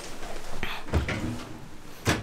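Drawers in a room at Disney's Hotel Santa Fe, Disneyland Paris, slide open and shut nearby, giving a few sharp wooden knocks and scrapes spread over about two seconds.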